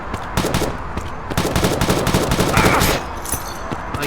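Rapid automatic gunfire in the Modern Ops mobile shooter game, dense bursts of shots running almost nonstop for about three seconds, then quieter scattered firing at the end.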